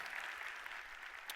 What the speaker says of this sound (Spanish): Les damos un aplauso fuerte a los niños.